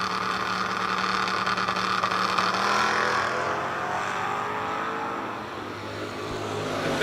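A third-generation Chevrolet Camaro launches down a drag strip at a King of the Shore race. The engine roars loudly and climbs in pitch, eases off slightly toward the end, then swells again.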